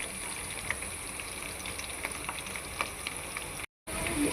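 Onions and green chillies sizzle steadily in a hot pan for a tomato and egg curry, with a constant crackling fry and a brief dropout near the end. No one speaks.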